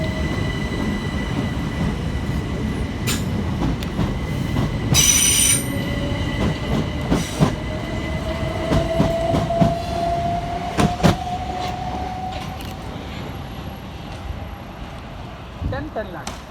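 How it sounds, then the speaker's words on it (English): Southern Railway Class 377 electric trains arriving at South Bermondsey station in London, with loud wheel squeal rising in pitch, rhythmic clicks over rail joints and brief bursts of hiss, steady and close, with speech audible over it. "377320 and 377324 arrive, working the 1546 Southern Railway service from Beckenham Junction to London Bridge"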